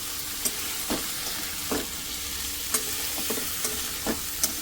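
Papdi beans and potatoes are stirred in a pan for a Gujarati stuffed chili and papdi muthiya curry, with repeated scraping strokes over a steady low sizzle, close and alone.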